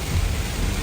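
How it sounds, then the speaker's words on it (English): Heavy rain pours down on a morning in Honolulu, Hawaii, a dense, steady roar of close downpour with no voices. "My first morning in Hawaii, it's raining like crazy"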